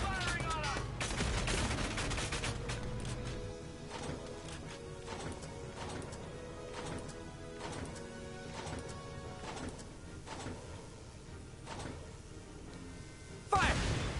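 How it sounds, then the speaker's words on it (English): Enemy soldiers return fire in the video game Valkyria Chronicles 4, with sustained gunfire of rapid cracks and bursts over a steady music bed, and a sharp crash near the end. "The enemy's returning fire!"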